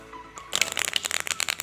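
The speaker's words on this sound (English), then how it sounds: "let's shuffle our deck of cards that is present over here." A deck of playing cards is shuffled during a card trick performance, a quiet pause giving way to a rapid burst of crisp riffling flutters and snaps up close, with no talking.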